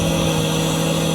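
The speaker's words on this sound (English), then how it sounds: "That does not sound like the standard exhaust on a Testarossa." A Ferrari Testarossa flat-twelve engine starts and runs with a loud, steady, low rumble and a throaty, even hum close by through a non-standard exhaust, with no voices.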